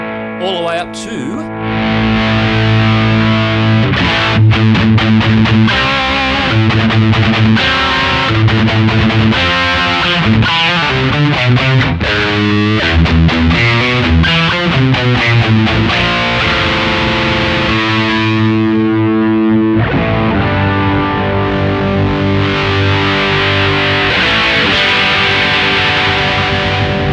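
Electric guitar played through a Randall RD1C 1-watt tube combo amp with the gain turned fully up, a loud, thick distorted stream of chords and riffs running nearly nonstop, with brief pauses and sustained ringing notes.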